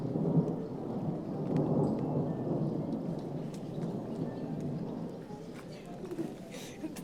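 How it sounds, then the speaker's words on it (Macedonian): A thunderstorm with rain near a village by old mines: low rolling thunder rumbles through most of the stretch, fading gradually, with soft rain patter and a few faint distant sounds above. "Почна да врне."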